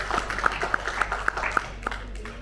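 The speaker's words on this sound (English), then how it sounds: "we should give ourselves a good round of applause" A few people clap in a regular rhythm, sparse and close, with faint room noise behind.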